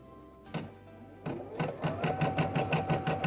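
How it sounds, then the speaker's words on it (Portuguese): An embroidery machine stitches fabric for a baby rattle, its needle running in a fast, steady rhythmic chatter after a brief start and pause, close and alone with no talk. "E a máquina vai costurar."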